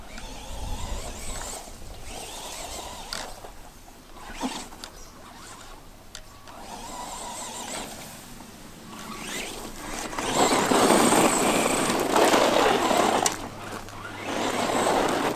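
A Funtek Furio RC car accelerating and wheelieing on its rear wheels, a whining electric motor buzz that rises and falls in bursts, swelling loudest near the end, heard alone.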